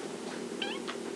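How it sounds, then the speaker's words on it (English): A pet cat gives two short meows in quick succession, close and moderately loud over a steady broadband background hiss, with no one talking. "this is my kitty Gus."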